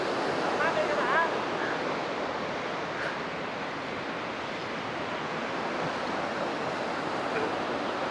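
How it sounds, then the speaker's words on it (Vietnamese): Tình Tang waterfall at Đam Rông roars as a broad, steady rush of falling water heard from nearby, continuous and loud, with wind buffeting the microphone. "Đó, cái thác kia ở trong kia kìa."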